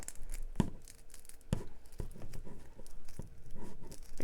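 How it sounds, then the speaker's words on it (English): Scissors snip and tear through three layers of folded stiff mesh in several sharp, irregular cuts, close by with crinkling between them. "I'm going to take some good scissors and I'm going to cut this right here"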